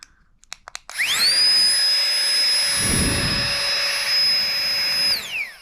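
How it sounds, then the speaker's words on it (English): A Flextailgear Tiny Pump X, a small electric air pump, whirs up after a few clicks and runs at a steady high-pitched drone for several seconds before winding down, loud and close with no talking. "Click the button twice and that activates the pump."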